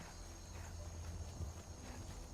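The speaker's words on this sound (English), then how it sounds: "our horse is actually making its way back to the stable" Faint, steady clip-clop of a horse's hooves walking toward a stable in the video game Skyrim, soft rhythmic steps under a low ambient hum.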